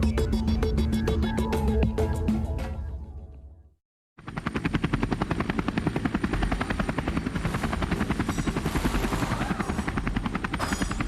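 A helicopter's rotor thuds rapidly and evenly under a whining turbine, loud and close, breaking off in a brief silent cut before resuming at the same steady chopping pace.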